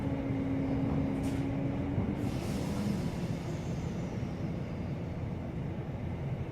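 South West Trains service running through the Hampshire countryside between Ash and Aldershot, a quiet steady rolling rumble from inside the carriage, with a faint brief tone early on.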